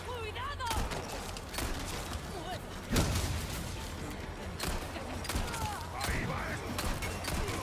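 Gunshots in the Resident Evil 4 Remake video game, a series of sharp separate reports spaced a second or so apart, one heavier thump near the middle, with spoken voices and game ambience underneath.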